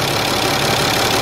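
A bus engine idles steadily in a loud, close, unbroken drone with a faint knocking texture, recorded while the engine block's temperature is being checked.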